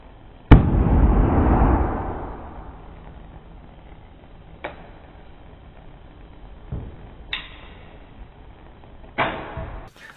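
A sharp loud bang as a hydrogen-filled balloon ignites, with a rushing roar that fades over a second or so, then several fainter thumps and pops spaced apart. No speech.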